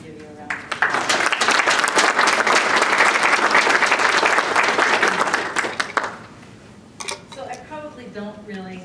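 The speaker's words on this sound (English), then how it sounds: "I want to give you a round of applause" Audience applause at an evening keynote address for a global learning symposium, a dense burst of clapping lasting about five seconds before fading into quieter room sound and a voice.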